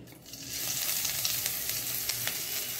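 Finely chopped onion sizzles in a couple of spoons of hot oil in a pan, a steady close crackling fry with occasional stirring pops and no talking.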